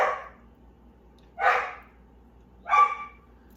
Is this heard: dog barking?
yes